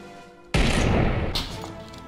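Gunfire in the PUBG Battlegrounds video game: a single loud, close shot bursts out after a quiet start, followed by a sustained noisy tail with a second sharper hit, with no talk in between.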